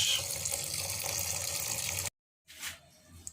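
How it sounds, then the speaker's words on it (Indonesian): Tap water runs steadily into a pot being filled for chicken soup, then stops, followed by a moment of silence and a few quieter splashes and clinks close by. "Kita isi dengan air baru bos, secukupnya bos."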